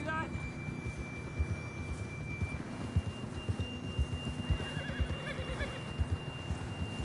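A horse whinnies in the Western video game Red Dead Redemption, a brief call set against a steady in-game ambience of hooves and background hum, with no talk over it.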